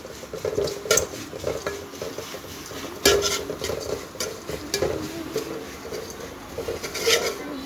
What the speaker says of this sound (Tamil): நல்லா எண்ணெயில் ஒரு செகண்ட் அந்த மாதிரி வதக்கிக்கணும்